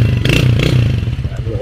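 A Honda Win 100 motorcycle engine runs close by, thumping in a rapid steady rhythm with a rattling clatter, while someone talks over it.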